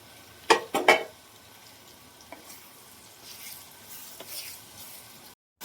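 Fried eggs stirred into a sizzling egg curry in a pan: a few sharp clanks of the spoon against the pan, then a soft, steady sizzle with light scraping.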